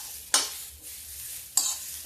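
Samak rice being stirred and roasted in a pan for kheer, a few quick scraping strokes of a spoon over a soft, steady background sizzle, close up and without talking.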